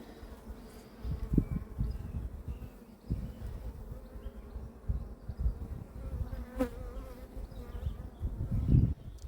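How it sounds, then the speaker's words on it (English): Calm, docile honeybees drone steadily around an open hive during a colony inspection, a soft continuous buzz with occasional louder passes of individual bees close by. "Very docile bees."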